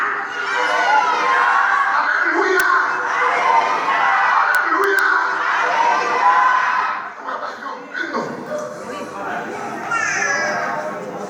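A church congregation roars out hallelujah together, a loud dense crowd of overlapping voices with children's cries mixed in, dipping briefly before rising again.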